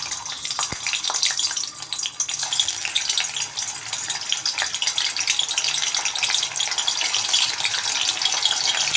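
Paneer pieces fry in hot oil in a kadai, a loud, continuous bright sizzle that holds steady throughout.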